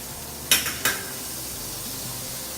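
Butter dropped into hot oil in a pan, two sharp sizzling bursts close together that quickly fade back to a low, steady frying hiss.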